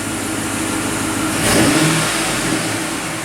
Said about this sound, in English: Revs good, sounds good.